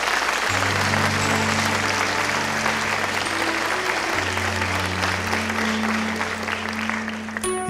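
Congregation applauding during a church sermon, continuous dense clapping over sustained low musical chords, fading slightly near the end.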